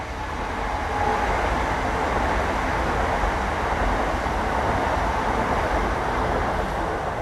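A train rumbles steadily past, a loud continuous roar of wheels and cars that holds for the whole stretch.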